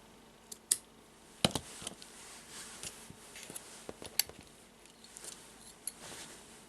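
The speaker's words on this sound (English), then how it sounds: "I will cut the yarns." Scissors snip through yarn while finishing a handmade friendship bracelet, giving a few sharp, close clicks and crisp cuts spaced irregularly over a quiet background.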